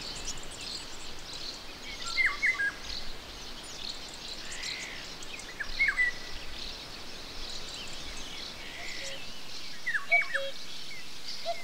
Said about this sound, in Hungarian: a madárcsicsergés közé mind gyakrabban vegyül a kakukk jellegzetes hangja